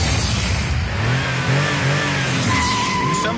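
A 2006 Toyota Prius hybrid driving on a track, its engine note rising and shifting steadily with road and tire noise throughout, loud and close.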